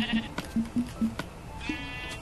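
Several short sheep bleats from Minecraft, the blocky video game, sound in quick succession, clear and close, with a brief higher cry near the end.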